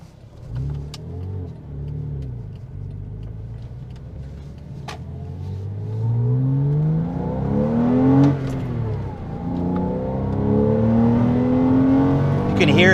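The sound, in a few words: Porsche sports car engine revving and accelerating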